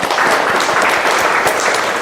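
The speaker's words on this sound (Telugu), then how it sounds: "ఈ యొక్క నూట ఇరవై మూడు మంది అభాగ్యుల ద్వారా కూడా చప్పట్లతో శుభాకాంక్షలు తెలియజేసుకుంటున్నాము" An audience at a charity food-donation anniversary gathering claps together in loud, dense, continuous applause that stays even throughout, with some faint voices mixed in.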